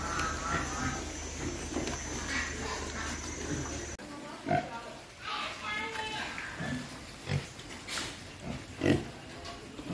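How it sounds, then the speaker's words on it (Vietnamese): Young breeding gilts of about 30 kg and piglets at a pig farm in Vinh Long grunt and oink in short, irregular bursts near and far, with someone talking over them and a steady mechanical hum in the first few seconds. "Này, heo cái hậu bị nằm khoảng 30 kg một con."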